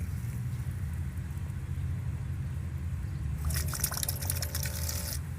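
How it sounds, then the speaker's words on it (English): Fluid drips and trickles at a homemade drinking station, a brief run of light watery splashes partway through over a steady low rumble. "A little bit of drip there, not much."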